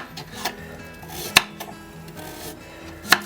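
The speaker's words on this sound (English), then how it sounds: "I'm going to slice the carrots up and the sweet potato" A knife slicing carrots and sweet potato on a board, a few sharp isolated knocks and clicks against a low kitchen hum, close by with long gaps between cuts.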